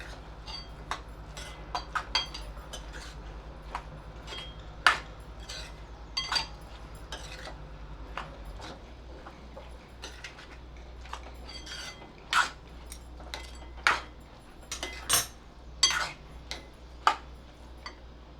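A spoon scrapes and clinks against a pan in irregular taps and scrapes while moong dal and salt are stirred, with a low steady hum underneath.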